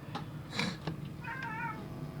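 A cat meows a couple of times close by, short, rising cries against a quiet room background.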